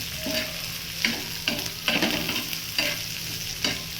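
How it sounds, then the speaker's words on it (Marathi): Onions frying in a pan give a constant close sizzle, broken every second or so by louder scraping bursts as a utensil stirs them. "आता कांदा भाजून आहे"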